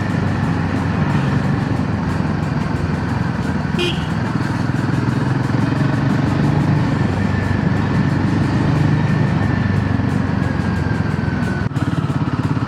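A Himalayan 450 motorcycle rides along a coastal road with a steady, loud engine drone and wind roar. A faint horn-like tone briefly cuts through the noise.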